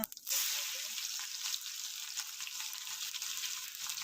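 Mustard seeds and cumin sizzle in hot oil for rasam, a steady bright hiss of frying that starts with a sharp burst, then settles into continuous crackling, close but fairly quiet.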